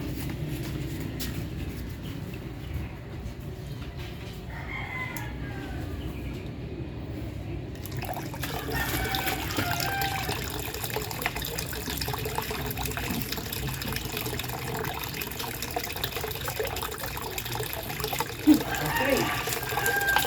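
Water runs from a newly installed faucet in a steady, rushing flow that starts partway through and continues to the end, with someone talking in Filipino over it.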